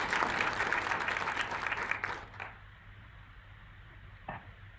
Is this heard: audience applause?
yes